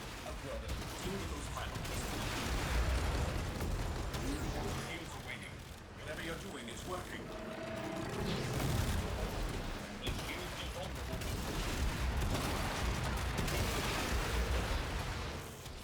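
Weapon fire at the Profit Taker's legs in the Warframe video game: dense, continuous bursts of gunfire and explosions over a rumbling game soundscape, with talk running throughout.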